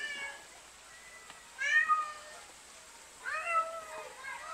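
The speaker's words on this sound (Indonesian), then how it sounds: "Kucing hutan, guys." A Bengal cat meows in two short rising calls, one near the middle and one toward the end, fairly close over a quiet room with faint background noise.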